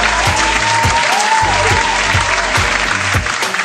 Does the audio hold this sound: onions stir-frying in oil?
no